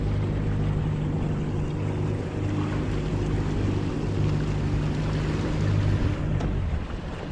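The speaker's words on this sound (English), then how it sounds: "So I'm just moving with the main motor at the moment." A boat moving at sea powered by a Haswing Cayman B 80 lb electric main motor, giving a steady, continuous hum mixed with wind and water noise, fairly loud and unbroken, with no talk.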